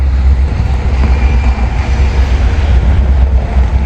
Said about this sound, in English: So the train is